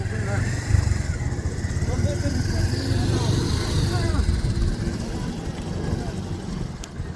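A motorcycle climbs a steep, winding hill trail, its engine a continuous loud low drone close by, with voices talking over it.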